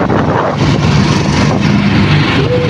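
A motorcycle engine strains under a heavy load, droning loud and close with a steady rough rumble and a slight rise in pitch near the end, and no talking.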